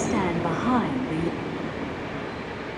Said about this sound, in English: 4501 now leads the train back to Sydney,